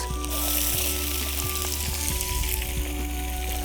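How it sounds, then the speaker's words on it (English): Mixed vegetables sauté in a hot pan, a continuous bright sizzle with crackling pops and faint utensil clicks, close and steady. "Now for the vegetables, I'm just going to saute these vegetables."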